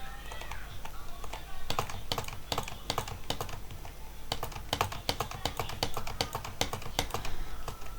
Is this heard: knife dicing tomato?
no